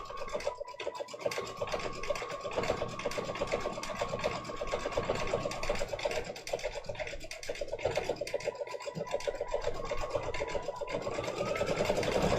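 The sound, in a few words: embroidery machine stitching a quilted design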